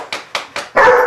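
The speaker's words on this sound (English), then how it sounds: "You're a funny dog." A dog barks three times in short, evenly spaced bursts, then lets out a longer, louder bark or yelp, all close by with no talking over it.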